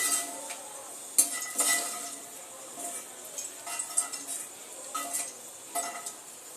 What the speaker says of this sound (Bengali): ভাজা হয়ে গেছে, এবার তুলে নেব বাদামগুলো